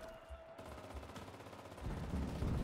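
Gunfire from a soldier leaning around cover in the shooter game Enlisted, faint and distant-sounding bursts of shots that build slightly toward the end.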